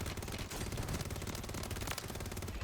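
Rapid automatic gunfire rattles in dense, continuous bursts with game-like sound effects in Call of Duty: Warzone, fairly faint overall and without speech.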